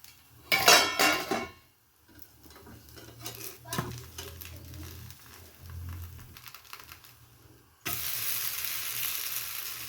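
Jackfruit dosa frying in oil on a pan covered with a plate, with a close clatter of plate and utensils early on, then a quieter stretch and a loud, steady sizzle for the last couple of seconds; no voices.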